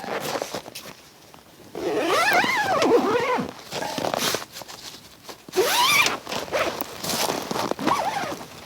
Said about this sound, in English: by having the double zipper, I unzip from the top